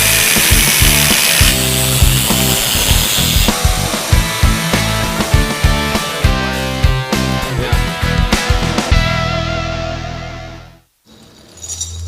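A loud power tool, sounding like a cutoff saw, grinds steadily through a truck drive shaft in a shop, with sharp repeated bites and scrapes. It runs continuously for about eleven seconds, then stops abruptly and quiet room noise follows.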